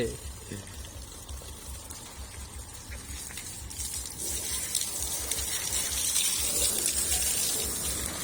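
Water running and splashing while a car is washed outdoors, a continuous rushing wash that grows louder and brighter toward the end.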